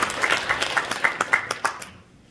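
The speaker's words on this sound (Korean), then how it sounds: "박수 한번 주십시오." An audience at a Korean environmental volunteer awards ceremony gives a brief round of clapping, a short, moderately loud patter of hands that fades out after about two seconds.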